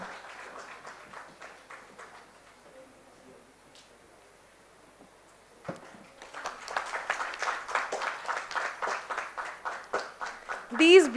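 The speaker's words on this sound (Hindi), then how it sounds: "तालियों की आवाज रुकनी नहीं चाहिए," Steady crowd applause builds after a pause into loud, rhythmic group clapping that swells toward the end, with some talk at the start.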